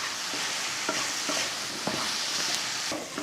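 Chicken fries in soy sauce with coriander leaves in a pan, sizzling steadily while a spoon scrapes and stirs in a loose rhythm of close, light knocks.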